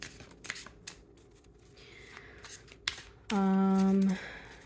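Tarot cards being shuffled in a pick-a-card reading, soft riffling and flicking bursts spread across the clip, fairly quiet and close, followed by a brief loud steady tone near the end.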